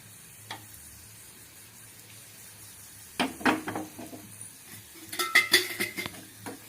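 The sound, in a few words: asafoetida frying in hot oil in a pan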